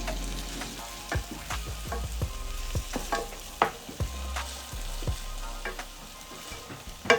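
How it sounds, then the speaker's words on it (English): Shallots and garlic sizzle and fry in a pot with tomato paste, a steady crackling hiss broken by frequent light stirring clicks and scrapes, close and moderately quiet with no talk. "shallots and our garlic to cook down until they are nice and soft"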